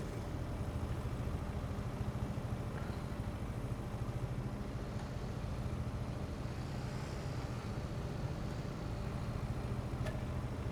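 A vehicle engine running in Farming Simulator 25 with a grain bin auger setup, a steady low mechanical rumble at an even idle, continuous and moderately loud without any voices.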